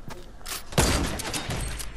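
Video game gunfire crackles in a rapid burst of loud shots with a heavier booming hit partway through, all set against busy in-game noise.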